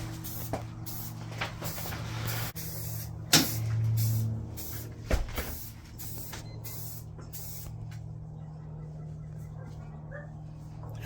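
Spray paint hisses onto the back of a cabinet in several short bursts of varying length, close by, with a steady low hum and a few clunks in the background.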